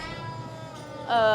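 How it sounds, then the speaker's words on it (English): A cat meows in a haunted school house, a drawn-out wail that rises into a louder, sharper cry at the end, with people nearby. "That is a cat. Yeah, it's a cat."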